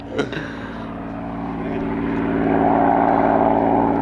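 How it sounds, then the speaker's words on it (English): A propeller airplane approaches and passes close by the airport for a flyby, its steady engine drone swelling louder and nearer over four seconds after a brief sharp thump at the start. "We kept the cameras on in case you do a flyby."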